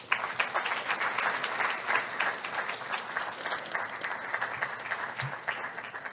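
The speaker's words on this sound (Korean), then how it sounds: "모두 뜨거운 박수 한번 쳐주시기 바랍니다" Warm, sustained applause from a seated audience at the 10th anniversary vision ceremony of Korea's National Institute of Green Technology, an even wash of many hands clapping at moderate distance for about six seconds.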